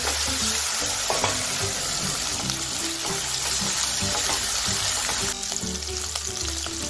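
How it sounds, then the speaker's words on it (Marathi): Ground spice paste (vatan) sizzling and frying in a pan as it is stirred until browned for a spicy soya chunks curry, a steady close crackle with occasional scraping and faint background music. "आता हे जे वाटण तयार केलेलं आहे ते आपल्याला छान परतून घ्यायचं आहे, ब्राऊन रंग येईपर्यंत।"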